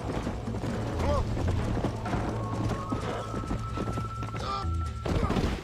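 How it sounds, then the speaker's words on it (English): Horse hooves clip-clopping fast in Red Dead Redemption as the horse goes wild, with mechanical rattles and a brief whinny, under game music and someone talking. "O cavalo endoidou, fi."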